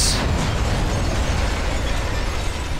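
In the Sniper Elite V2 game, an explosive charge detonates with a loud sudden blast followed by a long roaring rumble that fills the whole moment, dense and close, with no talking over it.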